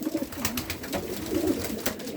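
Low, soft cooing from homing pigeons repeats through the clip, with faint rustling and background noise around it.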